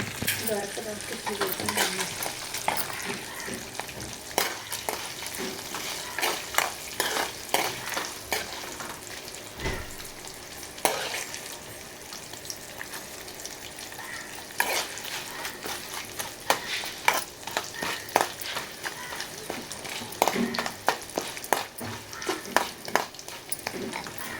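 Steady crackling sizzle of tempering spices spattering in hot oil for pulihora, with intermittent clicks and stirring knocks throughout, fairly quiet and close.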